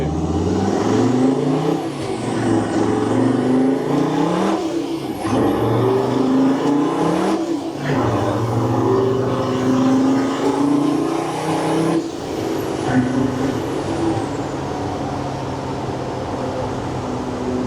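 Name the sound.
400HP converted van accelerating fast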